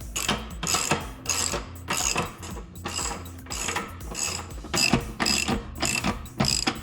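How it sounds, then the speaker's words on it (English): Ratchet tightening a wheel onto an axle during a Coleman CT200U-EX mini bike hydraulic disc brake install: rapid bursts of close, loud metallic clicking, repeated in steady strokes with short pauses between. "go ahead and tighten this wheel on here"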